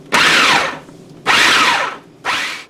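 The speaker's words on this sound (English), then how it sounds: "We're going to dump this in the food processor" Food processor mincing sliced ham, three loud close whirring pulses, each about a second long, separated by short pauses, with no voices.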